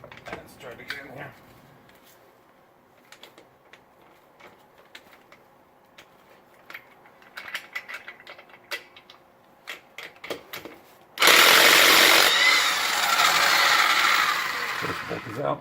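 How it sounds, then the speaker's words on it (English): A cheap Harbor Freight impact gun loosening wheel bolts on a car during a tubeless tire repair gives a loud, sustained burst near the end, after quieter clicks and handling noise. "we're going to use our trusty Harbor Freight Special, really cheap impact gun"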